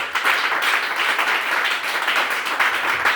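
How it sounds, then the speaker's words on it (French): A church congregation claps loudly and steadily in unison, a continuous wash of close, bright applause with no break, sustained for the whole stretch. "Acclame Jésus-Christ. Acclame très très fort."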